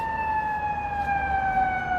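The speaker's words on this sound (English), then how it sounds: "Here comes the ambulance." An ambulance siren wails steadily on a Chicago city street along Milwaukee Avenue, a sustained, fairly loud tone with low traffic rumble beneath it.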